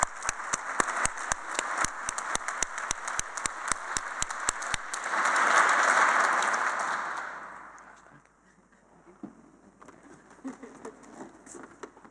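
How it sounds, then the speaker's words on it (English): A conference audience applauds: scattered sharp claps at first, then a fuller swell of clapping that fades out into quiet room noise. "give yourselves a round of applause,"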